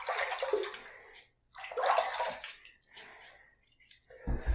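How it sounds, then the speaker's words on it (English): Water splashed by hand onto a head before a shave with a Karve Overlander razor, several short wet splashes and trickles separated by brief pauses, fairly close. "I want to just throw a little bit of water up there"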